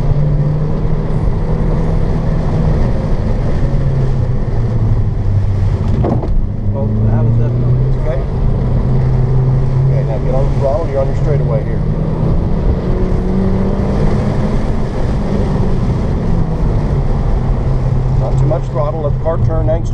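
Car engine during an autocross run, revving and accelerating through a course with steady droning engine note rising and falling, loud and close, with people talking over it throughout.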